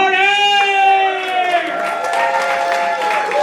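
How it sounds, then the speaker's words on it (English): Comedy club audience applauding and cheering as a stand-up comic takes the stage, clapping swelling under a strong sustained whoop or tonal voice at the start, then steady crowd applause. "So they're applauding, and then you thank them after the applaud"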